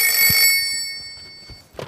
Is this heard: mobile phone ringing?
yes